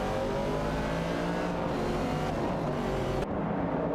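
A Dodge Challenger race car engine drones loud and continuous in an AI racing video game, holding a high revving note before it briefly shifts and surges near the end.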